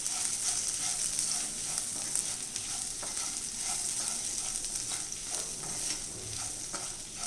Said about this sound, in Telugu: ఒక 1 మినిట్ కొంచెం వేపుకుంటే ఈ కొబ్బరి బాగుంటుంది.